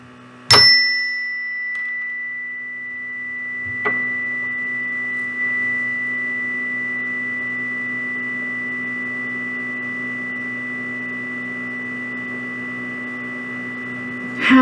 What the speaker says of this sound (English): Listen again to the chime. Listen until you can't hear it anymore.